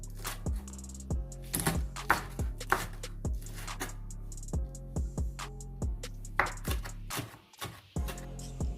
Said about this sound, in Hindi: इनको मैं अच्छे से काट लेती हूँ।